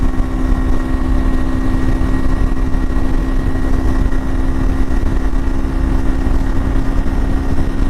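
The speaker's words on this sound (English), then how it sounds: "When you get this Ninja motor revved up, she goes," A Kawasaki Ninja motorcycle engine runs loud and close, holding a steady, buzzing high-rev drone without breaks.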